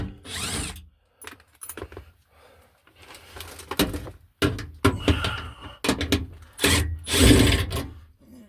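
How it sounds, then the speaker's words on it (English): A power drill works on the back door latch of a Toyota Sequoia in short bursts of whirring and ratcheting, with clicks and clunks of the latch mechanism between them. "Just able to reach the other side with the drill."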